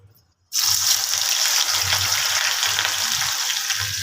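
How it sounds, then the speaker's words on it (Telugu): Ivy gourd pieces hit hot oil after a short quiet moment, bursting into a loud, dense, steady deep-fry sizzle that continues close up to the end, with no speech. "దొండకాయ డీప్ ఫ్రై చేస్తున్నాను"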